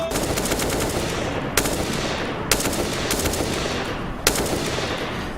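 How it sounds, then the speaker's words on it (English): Rapid automatic rifle fire from the video game CS:GO rattles in sustained close bursts, with a few sharper single shots cutting through a dense barrage. "Dirty Harry tries to shoot through the barrels"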